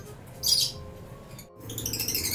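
Pale fallow pet birds give a couple of short, harsh squawks close by, one burst early and another longer bout after a brief pause, over faint background hum.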